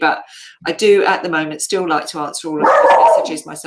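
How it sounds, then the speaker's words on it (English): A dog barks a few times in the background of an indoor conversation, the barks partly masked by a person talking steadily over them. "Excuse the dog."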